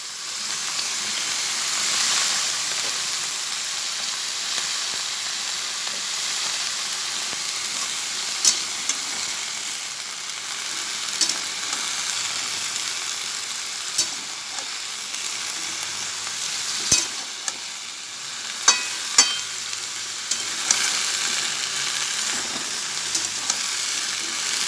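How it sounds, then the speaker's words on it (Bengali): A fish head and greens fry in a pan with salt and turmeric, giving a steady loud sizzle and hiss that runs throughout, broken by occasional scrapes and clicks of stirring. "ভাজা ভাজা হোক"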